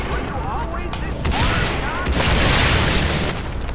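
Rapid semi-automatic gunfire and booming explosions from the video game Far Cry 3 Blood Dragon, loud and dense with overlapping shots and blasts throughout.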